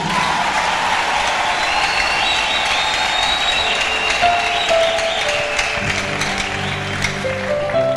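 A church congregation applauds steadily and loudly throughout, with a dense, continuous wash of clapping and some crowd noise, while sustained organ-like keyboard tones come in underneath partway through.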